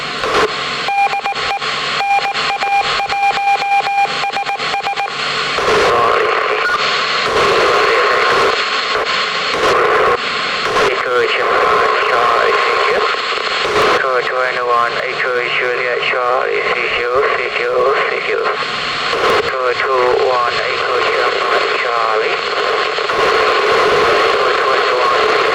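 Amateur radio reception of a low Earth orbit satellite, with noisy, hissing radio audio, beeping tones at the start and chopped voice transmissions that fade in and out through static.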